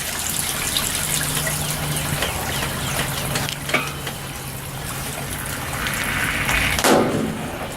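Water gushes from a leak in a manhole under repair with a chemical sealant, a loud continuous hissing rush with scattered crackles and a sharper burst near the end.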